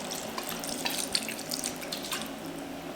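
White vinegar poured by eye into a pot for a Filipino pork blood stew (dinuguan), two cups per kilo of pork belly: a steady liquid stream splashing continuously for about three seconds, close and moderately loud, with no talking.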